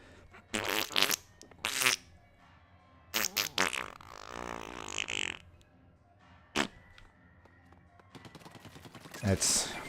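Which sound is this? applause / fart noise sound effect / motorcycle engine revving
fart noise sound effect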